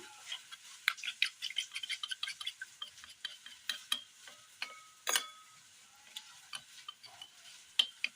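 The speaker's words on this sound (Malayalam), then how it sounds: "ഇതിലേക്ക് അല്പം കോൺഫ്ലവർ ഇട്ട് കൊടുക്കാം. ഒന്ന് മിക്സ് ചെയ്തെടുക്കാം." A spoon stirs cornflour into coconut milk in a bowl, giving quiet, irregular scraping taps and light clinks that come in quick bursts close by, with no talking.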